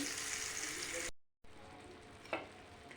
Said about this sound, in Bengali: চলো মাছটা ভাজা করে নিই